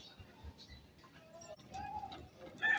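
Soft pigeon coos and low murmuring calls rise and fall close by, with rustling and a few sharper chirps toward the end.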